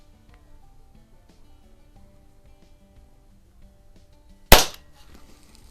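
A Crosman 2240 airgun fitted with an adaptor and a 1/2-20 suppressor fires one sharp, close, muffled crack after a few seconds of quiet room noise, with a brief tail afterward.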